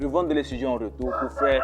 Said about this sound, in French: Désolé, il y a un coq qui crie là.